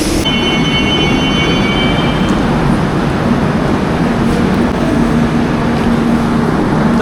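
Mahalaxmi Express pulling into a station platform: a loud, steady rumble of rolling coaches fills the whole stretch, with a thin high squeal near the start that fades after a couple of seconds.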